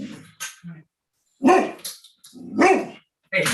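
A dog barks during a town board meeting, giving several loud, close barks in uneven bursts with short pauses between them, and no one speaks over it.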